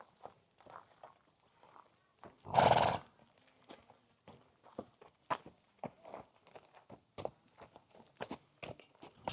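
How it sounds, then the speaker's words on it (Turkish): Big horses on the grounds of Bohnice psychiatric hospital in Prague give one loud, close snort or whinny midway, amid scattered hoof steps and shuffling nearby. "Böyle kocaman baya büyük atlar."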